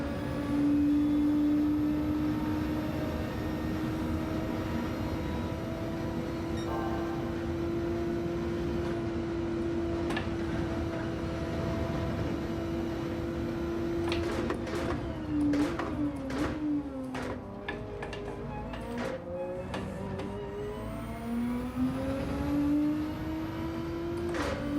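A race car engine in a racing video game drones at a steady pitch, then dips and climbs as the throttle is lifted and reapplied through shifts, loud and continuous with no talking.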